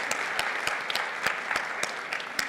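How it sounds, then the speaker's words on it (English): An audience at a health conference in Las Vegas claps for honorary awardees, steady dense applause with sharp individual claps popping through, moderately loud and continuous with no talking. "one last round of applause to all of our honorary awardees this morning."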